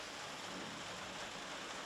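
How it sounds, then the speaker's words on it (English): Heavy rain pours down outdoors, a dense, even hiss of broadband noise that stays steady and unbroken throughout the short stretch, with no voices. "it's pouring down rain"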